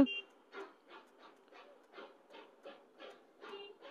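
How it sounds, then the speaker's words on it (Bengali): A train on the Darjeeling hill route near Batasia Loop passes on the left with a steady rhythm of faint, evenly spaced chuffing puffs. "বাঁ দিক দিয়ে আবার ট্রেন যাচ্ছে।"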